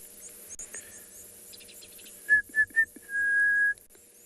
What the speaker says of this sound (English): You can maybe hear the orange-breasted bushshrike in the background.